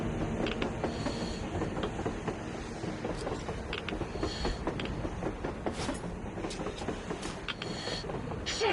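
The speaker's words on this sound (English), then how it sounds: "A damn train on the surface!" A train rolls past on the surface in Metro Exodus, a steady loud rumble threaded with rhythmic metallic clicks and occasional hissing bursts, with no voices over it.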